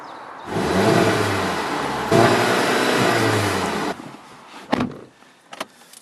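A Volkswagen Golf R with a 2-litre turbocharged four-cylinder engine revs hard twice in quick succession, each a loud, close, rising roar lasting nearly two seconds, followed by a quieter settling idle and a few sharp mechanical clicks.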